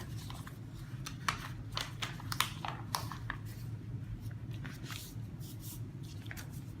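A bundle of mailing postcards is folded twice, making soft papery crinkles and creases in short bursts over a steady low background hum, close and fairly quiet, with no talk.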